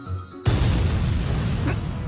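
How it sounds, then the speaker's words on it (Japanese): A loud explosion goes off aboard a ship in the video game Valkyria Chronicles 4, a sudden booming blast after a moment of quiet that settles into a sustained, heavy rumbling roar. "艦内にて爆発事故発生。"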